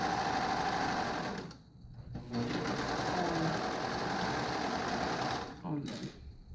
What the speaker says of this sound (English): So use your stretch stitch or use your serger.